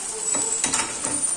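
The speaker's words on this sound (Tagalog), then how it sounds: "Lagay na natin itong halaan." Clams dropped into a hot pan for a squid-and-clam seafood pasta, with a brief loud sizzle and a stirring scrape near the mic.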